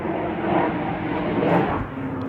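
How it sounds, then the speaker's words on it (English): A noisy aeroplane passes overhead outside a garage workshop, producing a continuous broad rumbling roar that stays steady throughout. "after the noisy aeroplane's gone over"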